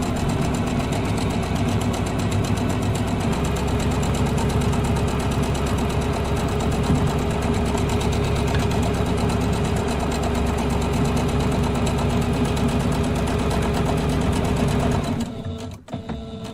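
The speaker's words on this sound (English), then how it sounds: "I'm going to go ahead and sew these together" A sewing machine stitches quilt pieces for a Kimberbell pillow wall hanging, running loud and steady at close range with a dense mechanical drone before stopping abruptly near the end.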